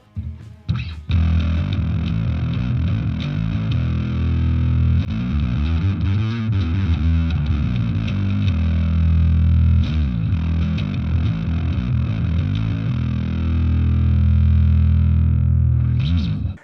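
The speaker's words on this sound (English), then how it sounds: "I think it's a little bit too much of distortion" Bass guitar runs through heavy distortion from an Aguilar Agro or Marshall JCM 800, sustained gritty notes and chords droning loud and thick throughout, with a brief pluck and pause at the start.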